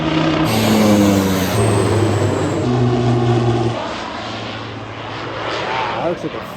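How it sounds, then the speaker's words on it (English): A small floatplane lands at Anchorage, Alaska, its engine a loud, close drone that shifts pitch in steps as it throttles down, then settles into a quieter hum. "That looks like a fun landing."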